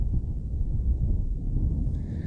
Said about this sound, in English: Sorry about the wind, folks